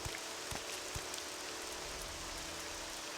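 Steady rain pours down in the Morrowind video game, a continuous hiss of drops with a few soft low thumps, fairly faint and with nobody talking.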